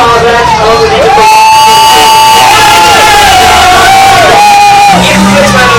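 Loud crowd at a 2013 Isle of Man demolition derby cheers, whoops and shouts in a dense, overloaded roar, with sustained yells rising over the din throughout.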